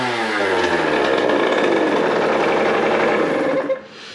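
A Hm 50 CRE competition motorcycle engine buzzes loudly at close range with a fluctuating two-stroke drone, then stalls abruptly near the end and leaves a faint residual hiss.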